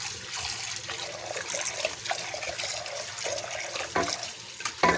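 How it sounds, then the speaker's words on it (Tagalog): Running tap water pours over ingredients being washed for champurrado, a steady close splash and trickle with a few louder handling bumps near the end. "Hugasan lang ng hugasan hanggang sa malinis siya"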